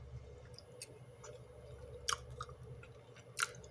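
Quiet chewing of seasoned potatoes flavored with turmeric, garlic and black pepper, with soft mouth sounds and a couple of sharper wet clicks over a low steady background hum.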